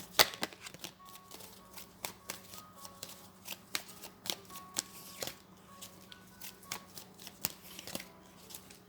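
Tarot cards being shuffled during a Thai love-horoscope reading, giving a steady run of soft riffling clicks and flutters close up, with no talk over them.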